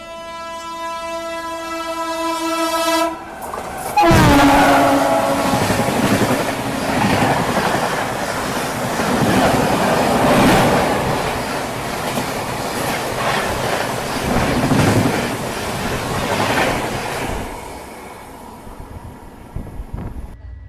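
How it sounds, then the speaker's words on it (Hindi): Indian Railways train arriving slowly at Khandwa Junction station, a steady horn note opening before a loud rolling rumble of wagons and clattering wheels that carries on at close range and fades near the end. "धीरे धीरे अपना अराइवल हो रहा है खंडवा जंक्शन रेलवे स्टेशन पे"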